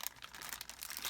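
A plastic bag of model car parts crinkles and rustles continuously at close range as it is opened, with light crackling throughout.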